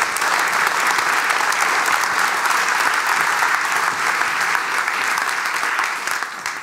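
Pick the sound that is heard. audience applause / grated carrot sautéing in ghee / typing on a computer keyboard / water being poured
audience applause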